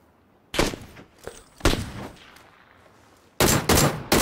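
Loud gunfire in PUBG on Xbox One comes in sharp single shots and short bursts separated by quiet gaps, then a rapid cluster of close shots at the end.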